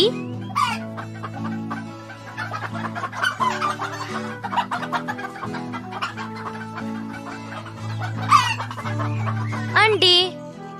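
A chicken clucks repeatedly over a continuous musical background, with sharp bursts scattered throughout and a louder flurry toward the end, as part of a children's classroom matching lesson.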